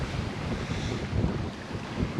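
Wind rushes steadily across a sailboat on the water off the French Atlantic coast, a broad buffeting roar with some wave wash, continuous and fairly loud with no voices.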